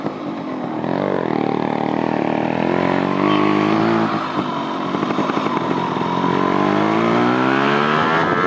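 A Yamaha RX motorcycle rides along a ring road, its engine droning loudly and steadily with rising and falling revs as it accelerates, and wind noise runs underneath.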